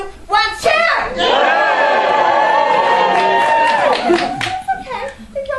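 An audience packed into a big, dusty hall breaks into loud, sustained cheering with shouts and whistles on a countdown cue, then fades into scattered voices.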